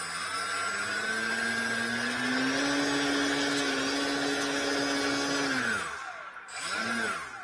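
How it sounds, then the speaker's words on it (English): Electric motor of a foam board Aeromaster biplane RC model spinning its propeller, a loud steady whine held at high throttle for several seconds, then dropping away, briefly spooling back up and cutting off. "So let's see how that propeller spins."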